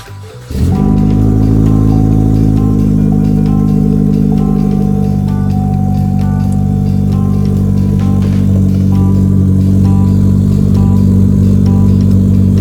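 Chevrolet Sonic with a catless downpipe fires up and revs, a loud, close engine note that holds a steady, raspy rumble with brief pitch swells throughout.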